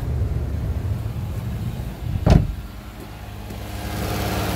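The engine of a 2004 Toyota Sienna idles steadily nearby with a low rumble, broken by one brief sharp knock or clunk partway through, and no one talks.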